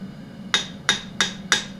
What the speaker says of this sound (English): I'm going to hit the hammer